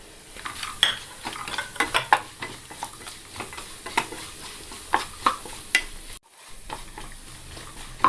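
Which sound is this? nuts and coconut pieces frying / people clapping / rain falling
nuts and coconut pieces frying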